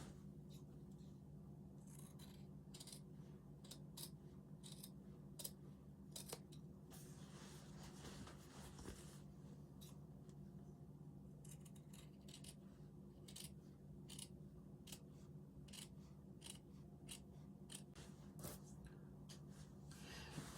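Scissors trim the seam allowance on a jacket's lapel and front facing in repeated short, crisp snips that run steadily and close at a low level.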